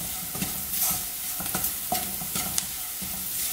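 A bitter gourd thoran mixture stirred in a pan, soft frying sizzle under repeated scraping strokes of the spoon, close up and unaccompanied by speech.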